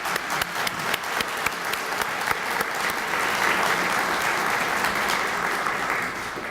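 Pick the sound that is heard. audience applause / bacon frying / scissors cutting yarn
audience applause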